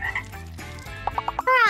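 A frog croaks in short bursts, a few quick rhythmic calls followed by a louder drawn-out croak at the end, close and clear.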